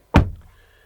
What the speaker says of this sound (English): Once I close the door,